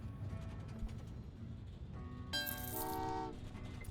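A train running in the video game Train Valley 2: steady rolling rumble, then a bright, loud horn blast about halfway through that holds for roughly a second before fading back into the running noise, with no talk.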